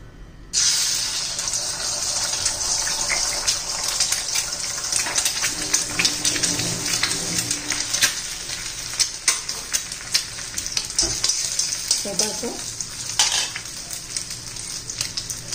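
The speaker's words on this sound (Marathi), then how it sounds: "आता तेल गरम झालेलं आहे. तर त्याच्यामध्ये आपण अंड फोडून घेणार आहोत." Eggs fry in hot oil for an egg masala, giving a steady, close sizzle and crackle that runs for the whole stretch with occasional clinks and stirring sounds.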